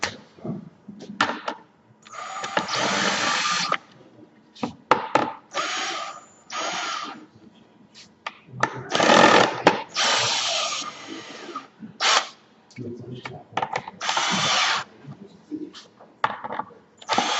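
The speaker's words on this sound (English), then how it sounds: "let's see if my drill actually still works or not" A power drill, just dropped on the ground, runs in short bursts in a woodworking shop, whirring loud and close in repeated starts and stops with clicks and handling noises between.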